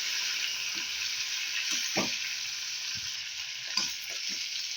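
Prawns frying in hot oil in a pan as they are turned over, a steady close sizzle with a few soft pops and light knocks scattered through it.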